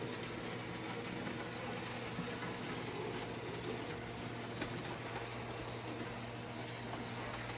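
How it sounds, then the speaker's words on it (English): A small model locomotive engine running on a track circuit, producing a steady, unbroken hissing and mechanical whir at constant level with no pauses. "It's putting every little bit of effort it can into it to go. It's a determined little engine."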